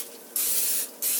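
Cooking spray hisses from a can onto a big skillet before corned beef goes in: two close, loud bursts, the first longer, separated by a short pause.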